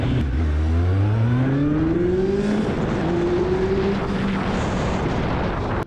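A Harley-Davidson motorcycle fitted with a Mivv GP exhaust revs up close, its loud, deep engine note rising and sweeping in pitch before settling into a steady rumble.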